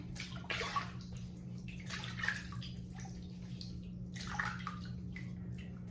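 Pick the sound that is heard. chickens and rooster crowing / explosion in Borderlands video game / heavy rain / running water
running water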